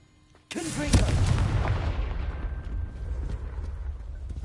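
A blasting spell erupts at 0.5 s in Hogwarts Legacy: a sudden heavy boom with crackling debris and a long rumbling tail that keeps rolling to the end. No one speaks over it.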